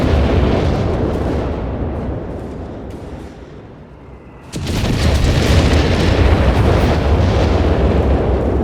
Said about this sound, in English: That artillery called in here on the machine gun flak 30, but angling off it.